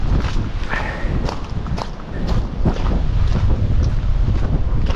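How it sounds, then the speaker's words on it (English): Gusty outdoor wind near a churchyard roars and buffets the microphone in heavy low rumbles, with a few scattered thuds and rustles mixed into the continuous blustery noise. "it is windy"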